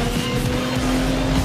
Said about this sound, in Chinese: 这个换挡声好美